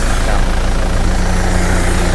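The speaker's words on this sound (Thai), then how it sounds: "มาดูเครื่องยนต์กันนะครับ เครื่องยนต์นะฮะมาดูกำลังอัด กำลังอัดเครื่องยนต์" A 2001 single-cab Isuzu Dragon pickup engine runs at a steady idle, a loud, close, continuous low diesel-like drone with an even throbbing pulse and no pauses.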